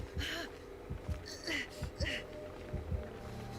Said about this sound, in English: You hear the heartbeat? She's probably right in front of us.